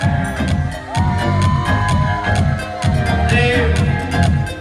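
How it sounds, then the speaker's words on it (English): A crowd at a youth festival in Diphu cheers and shouts over booming festival music with a heavy thumping beat, scattered whoops rising above the noise. "Please, can we have a big round of applause for Mr. Song Hong Terang,"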